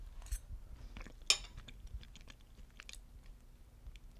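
Close, wet chewing of salted beans cooked in butter, with soft crunchy bites, lip smacks and an occasional faint clink of cutlery over about four seconds; no talking.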